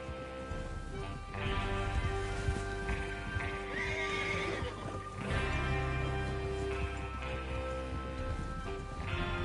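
Horse hooves clatter in a steady galloping rhythm, with occasional neighs and whinnies over a sustained ambient backdrop, in the video game Red Dead Redemption 2.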